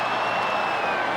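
A football stadium crowd applauds steadily after a 52-yard field goal attempt slides wide right, a dense, continuous wash of clapping and crowd noise with no distinct voices.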